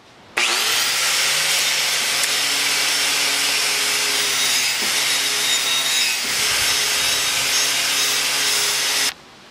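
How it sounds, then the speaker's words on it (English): A heavy wire wheel grinder scrubs thick scale off vintage pickaxe heads, a loud, steady, high-pitched whine with dense abrasive hiss that runs continuously for about nine seconds, one brief dip midway, no talking. "I think I'm gonna first take a heavy wire grinder to them and clean them up a bit."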